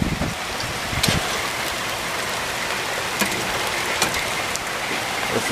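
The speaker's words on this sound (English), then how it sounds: "because the rain is getting it." Rain falling outdoors around a parked smoker, a steady broadband patter with scattered sharper drops close by, continuous and moderately loud with no talking.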